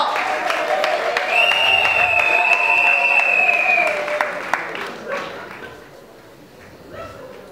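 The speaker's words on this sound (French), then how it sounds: "Applaudissons encore très fort." Guests applaud at a wedding celebration in a church while a sustained tone and voices carry over the clapping, which fades toward the end.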